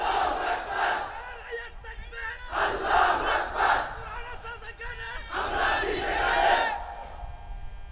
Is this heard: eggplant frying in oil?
no